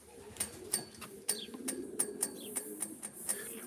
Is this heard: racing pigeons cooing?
yes